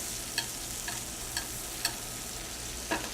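Steak frying in butter with herbs, a dense steady sizzle close up, broken by several sharp spoon or pan clinks spaced through it, no voices.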